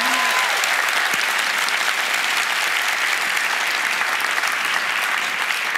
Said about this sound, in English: I'd ask you to give a big round of applause to her before we get started.